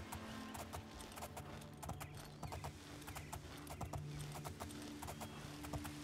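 Horse hooves clip-clop steadily in the video game Oblivion, a brisk, even trot of repeated hoofbeats over a constant low ambient hum, with no speech.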